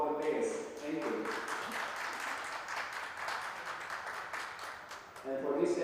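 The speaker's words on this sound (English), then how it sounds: "Spectators, please give a round of applause to all the players." Spectators at the Maldives Open 2024 tournament applauding the players, a soft, distant patter of clapping that fills the hall for several seconds, with an announcer's voice at the start and end.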